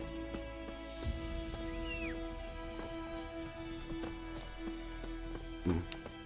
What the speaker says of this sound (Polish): Koń po drodze do mnie zablokował się.